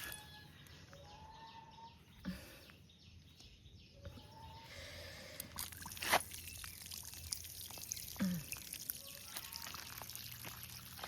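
Water runs from an opened pipe outdoors among garden plants, a soft steady trickle and splash heard from a short distance, with faint bird chirps in the background and no talking.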